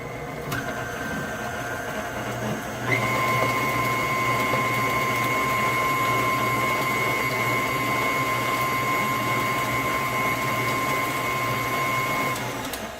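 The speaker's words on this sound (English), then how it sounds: "I'm going to turn my mixer on low and let it get started combining" An electric mixer combining ingredients for gluten-free banana bread, a loud steady whir that starts on low and steps up to a higher, faster speed about three seconds in, then runs on with no talking.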